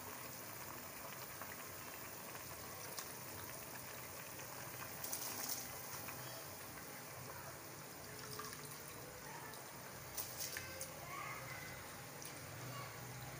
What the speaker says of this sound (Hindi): अभी हमारा पानी बॉईल हो गया